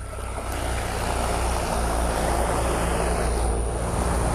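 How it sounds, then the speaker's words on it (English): Powerful fans blow an artificial sandstorm onto a running engine, producing a loud, continuous broadband roar with a steady low rumble throughout. "Now watch as we create one of the worst sandstorms imaginable."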